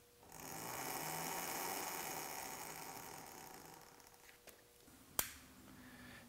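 The 250-watt electric motor of a mini bike spins its back wheel with a faint, steady whine that fades out. A single sharp click follows near the end.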